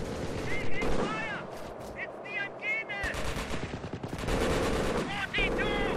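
Rapid bursts of machine-gun and rifle fire from a World War II battle in the Company of Heroes strategy game, with a town setting, crackling steadily throughout under overlapping voices of people talking.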